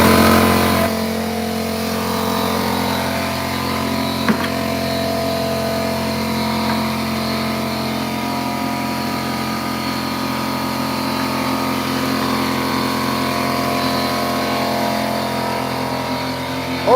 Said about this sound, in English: Let's flip on the air compressor over here. It's going to be loud.